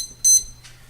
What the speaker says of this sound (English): Set your timer for 3 minutes, which I'll do now, so that we don't forget.